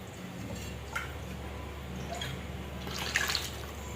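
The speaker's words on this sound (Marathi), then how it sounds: "गरम पाणीच ओतायचं आहे भाजीमध्ये" Hot water poured into a pot of village-style Marathi mutton curry, giving a faint, low liquid splash and dribble with a few brief louder spurts, no talking.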